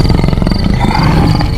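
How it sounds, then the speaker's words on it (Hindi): A loud, deep roar from a man-eating tigress in Champawat fills the entire moment. It sounds like a close, rough, pulsing growl with no pause. "बाघ ने जोर से दहाड़ मारी"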